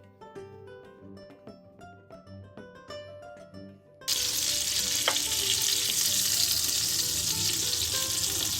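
Meatballs sear in melted butter in a frying pan, a loud, steady, hissing sizzle that starts abruptly halfway through after a softer musical opening and continues unbroken to the end.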